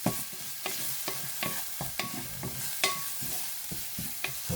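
Garlic and onions sautéing in a pan for ampalaya guisado, a constant sizzle punctuated by regular spatula knocks and scrapes against the pan, close and rhythmic.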